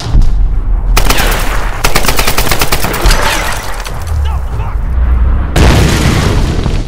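Gunfire in the Tomb Raider (2013) video game: loud, dense bursts of rapid automatic fire with booming shots, continuous and close, while someone talks over it.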